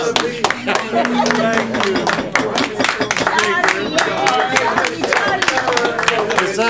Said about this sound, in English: Just us applaud and thank the speakers.